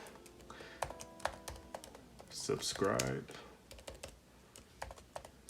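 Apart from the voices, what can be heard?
typing on a Logitech Folio Touch keyboard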